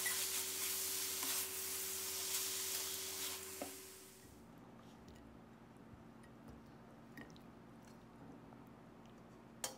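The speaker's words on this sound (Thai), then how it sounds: "ให้เราใส่ตะไคร้ซอยลงไป4ช้อนโต๊ะตามด้วยใบมะกรูดซอย5ใ บแล้วก็ให้เราผัดคลุกเคล้าให้เข้ากันนะครับ" Pork stir-frying with lemongrass and kaffir lime leaves in a Thai home kitchen, giving a loud, dense sizzle for about four seconds that then drops to a quieter crackle with scattered clinks and scrapes.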